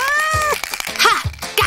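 A white cat meows several times in quick succession, close and fairly loud, with rising and falling calls separated by short rustling pauses.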